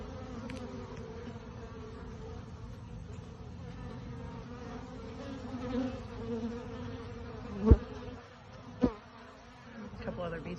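Honeybees buzz in a soft, continuous drone close by a hive with a new queen, with two brief sharper knocks or bumps partway through and no talking.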